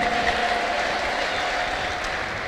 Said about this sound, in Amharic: አጨብጭቡ በጌታ በኢየሱስ ክርስቶስ ስም።